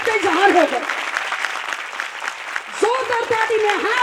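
An audience at a Christian colony Christmas meeting in Mardan claps loudly and steadily, while a voice speaks over the start and end of the applause.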